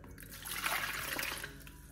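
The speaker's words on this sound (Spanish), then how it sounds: "agregar el agua" Water is poured into a bowl for dough, a short rushing, splashing pour that swells and then tapers off, heard alone.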